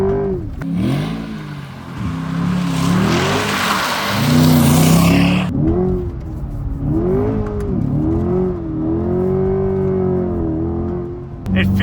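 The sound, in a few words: sports car engine revving while sliding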